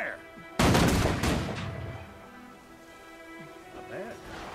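A volley of gunfire from a Guild Wars 2 gun-training drill, a loud, dense burst of overlapping shots lasting under a second, with a few trailing reports, then a quieter tail under game ambience and faint voices.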